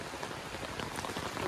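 Heavy rain pours steadily, a dense, continuous hiss of drops drumming on surfaces, loud and close with no voices.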